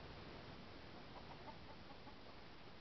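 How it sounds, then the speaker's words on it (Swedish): Chickens, roosters and hens, clucking faintly amid steady broadband outdoor noise in Borrud, with a few soft calls rising briefly in the middle. "Vad det är tuppar och hönor här."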